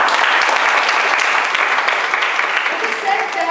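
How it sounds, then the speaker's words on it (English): Steady, dense applause from an audience at a chapter meeting, loud and sustained throughout with no break. "I'd like to give you a huge round of applause myself"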